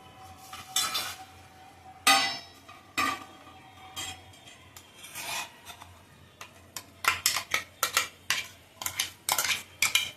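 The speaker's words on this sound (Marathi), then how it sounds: "आता आपल्याला गाळून घ्यायचं आहे ते" Metal utensils scrape and clink against a bowl or sieve in repeated bursts while straining blended guava seed purée, quickening toward the end, with no talking.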